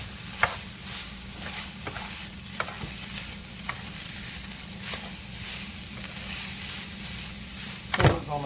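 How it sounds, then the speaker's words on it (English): Ground beef and cabbage filling for egg rolls sizzles steadily in a frying pan while a spoon stirs it, with scraping strokes about every second and a louder clatter near the end; no talking. "We're going to mix it in."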